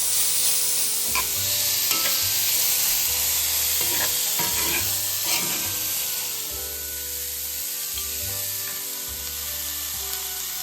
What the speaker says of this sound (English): 2 medium sliced onions, 4 pieces of chili sliced, salt to taste, and saute for a minute.